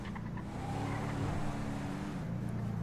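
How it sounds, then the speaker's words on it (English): A civilian car in GTA 5 drives along with a steady, moderately quiet engine drone that holds an even pitch throughout, with no talking over it. "driving around in a civilian car?"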